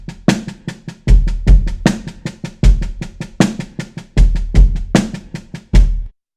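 A basic 4/4 drum kit groove with an added eighth-note kick drum, steady and close, with punchy kicks, crisp hi-hat strokes and a snare on the backbeat repeating evenly over several bars, no voices.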